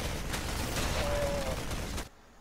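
Units in a real-time strategy video game target-firing on enemy depots produce a steady, dense barrage of overlapping gunfire and explosions for about two seconds before cutting off abruptly.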